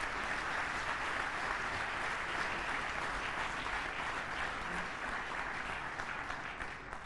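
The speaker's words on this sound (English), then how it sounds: "please join me in applauding a wonderful inaugural speech" A large audience at the Raisina Dialogue 2018 conference in New Delhi applauds after the prime minister's inaugural speech, a thick, even wash of clapping held steady for about seven seconds, fairly distant and with no speech over it.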